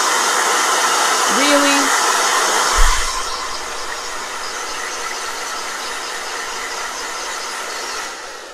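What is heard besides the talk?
blow dryer running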